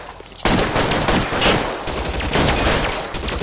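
Dense, continuous gunfire in L.A. Noire on PS4: a loud rapid fusillade of overlapping shots that erupts after a brief quieter moment and keeps rolling without pause.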